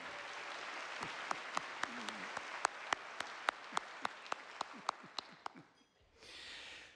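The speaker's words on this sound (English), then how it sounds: "let's give one more round of applause to the fearless leader of TJC, Dr. Wani Mejia" A round of applause for Dr. Wani Mejia at a scholarship luncheon: sharp, evenly spaced claps in a steady rhythm over a soft room hum, stopping after about five and a half seconds.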